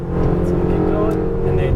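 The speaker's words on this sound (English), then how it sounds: "He's coming by in 3, 2, 1 on your right side right now." A drift car sweeps past on the right at Las Vegas Motor Speedway, heard as a brief, loud engine roar over the steady rumble of a Ferrari 488 GTB cabin.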